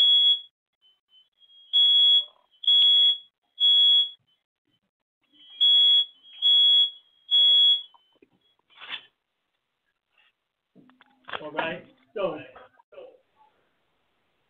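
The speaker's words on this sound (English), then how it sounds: "Is that you over there beeping?" A smoke alarm chirps in a room, giving three bright, evenly spaced beeps, a pause, then three more at the same pitch. People talk after the beeps.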